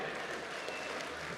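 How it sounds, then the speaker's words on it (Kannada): An audience applauds at the Chittara Star Awards 2024 ceremony, a soft, distant wash of clapping that stays even and continuous for a moment without speech. "ಬನ್ನಿ ಚಪ್ಪಾಳೆ."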